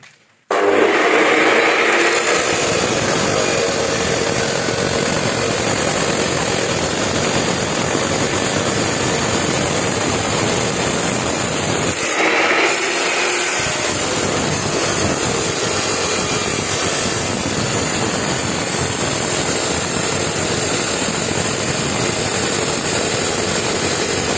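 Power saw cutting a wooden corner at 45 degrees, a loud, continuous close-up whine and rasp that runs almost the whole time, dipping briefly midway before carrying on at full strength.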